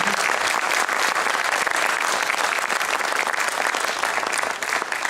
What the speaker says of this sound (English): I would like to join all of you in giving a round of applause to the volunteers.